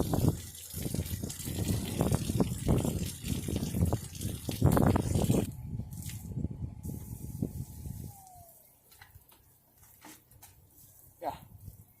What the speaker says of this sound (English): So now we have hot water coming out outside, steaming water,